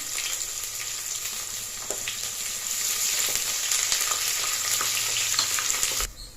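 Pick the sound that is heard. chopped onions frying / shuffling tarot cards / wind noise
chopped onions frying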